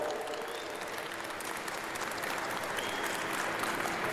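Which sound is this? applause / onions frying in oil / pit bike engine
applause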